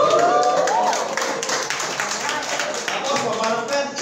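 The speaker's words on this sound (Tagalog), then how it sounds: "Isang palakpak, isang padyak, isang hiyaw." An audience at an event claps and cheers in a dense, continuous burst of applause with shouting voices mixed in, loud and close throughout.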